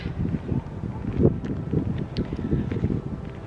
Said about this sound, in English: I'm really conscious of the wind.